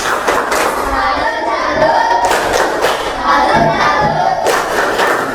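A class of schoolchildren performs the "tepuk salut" clapping chant, with loud rhythmic bursts of group clapping and shouting in a classroom, pulsing in several waves.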